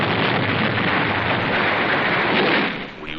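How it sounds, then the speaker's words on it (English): Hand grenades exploding in wartime combat, heard as a dense, continuous roar of blasts and rumbling debris that stays loud throughout before easing slightly at the end. "Hand grenades."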